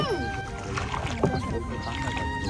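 Out on open water aboard a small wooden boat, faint lapping and gurgling sit under several people chatting nearby, with one brief louder knock partway through.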